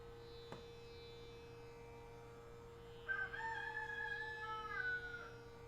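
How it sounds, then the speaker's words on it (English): A faint rooster crow rises partway through, distant and drawn out, over a steady electrical hum in an otherwise quiet room. "We have a guest appearance today by Freddie the Rooster."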